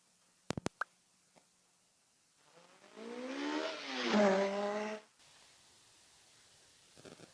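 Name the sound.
car engine revving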